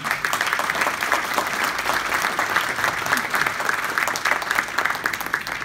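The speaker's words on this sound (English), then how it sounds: "Can we give a round of applause to them?" A crowd applauds at a leadership talk, with dense, continuous clapping at a steady loud level throughout.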